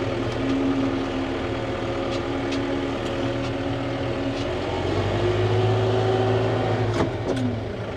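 A John Deere 6020 tractor engine runs steadily at close range during grass silage work, a loud continuous drone with a low harmonic hum that rises slightly in pitch midway, with no talk over it.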